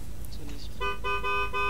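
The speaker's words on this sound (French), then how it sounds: "Est-ce que vous pouvez klaxonner s'il vous plaît?" A car horn honks several times in Forza Horizon 3 during a taxi roleplay, short repeated toots following a moment of background game noise.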